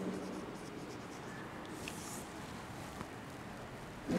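Faint scratching strokes of a pen or chalk drawing an abacus on a classroom board, soft and close against a quiet room hiss with a light tap midway.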